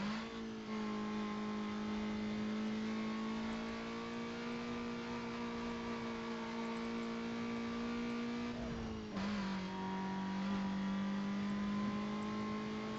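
Race cars roar in Need for Speed Most Wanted, a loud sustained engine drone held high, then briefly dipping as the car shifts before climbing again, with no talking.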